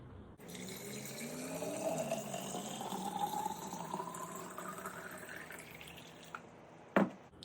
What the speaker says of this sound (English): Add your water.